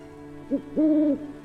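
An owl hoots twice, a short note followed by a longer, steady drawn-out hoot, clear and fairly close over a quiet, humming background with no talking.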